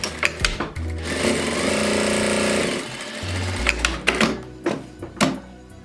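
A domestic sewing machine back tacks a seam on a fabric storage container, a steady mechanical run of stitching broken by brief stops and short reversing bursts, close and clear with no talk.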